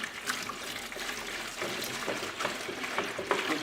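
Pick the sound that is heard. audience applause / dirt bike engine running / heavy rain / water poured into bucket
water poured into bucket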